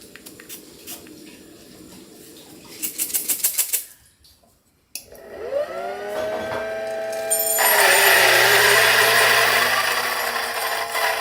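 An electric burr coffee grinder, such as the Option-O Lagom 01 or a Mizen-burred unit, spins up and grinds a dose of coffee beans, its loud whine rising and holding steady after some clicking and a brief pause.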